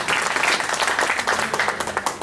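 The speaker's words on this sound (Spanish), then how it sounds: "Dale un aplauso al Señor" Church congregation applauding, a dense continuous patter of many hands clapping at close range, loud and steady throughout.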